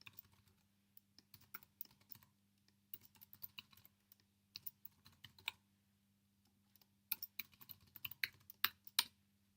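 Quick, light keystrokes on a computer keyboard while a username and password are entered, typed in uneven bursts with brief pauses over a faint steady hum, no voices.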